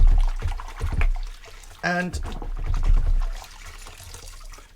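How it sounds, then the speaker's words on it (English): K&N washable air filter sloshed and agitated in a container of water, splashing and trickling close up, with a brief tonal squeak midway and someone speaking briefly over it. "I'm just going to give this a really good wash now,"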